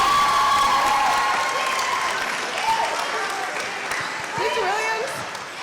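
Audience applause at a high school choir spring showcase, a broad crowd clapping wash that carries on under a speaking voice and fades slightly toward the end.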